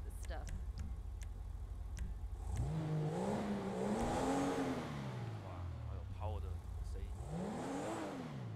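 A Pfister Comet sports car in GTA 5 revs its engine in two rising sweeps over a steady low idle rumble, with a person talking alongside.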